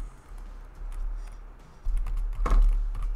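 A computer keyboard clicks in short bursts over a low steady hum, with one louder keystroke near the end.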